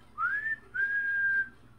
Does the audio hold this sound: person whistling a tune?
yes